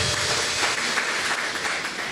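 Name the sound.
congregation applauding in church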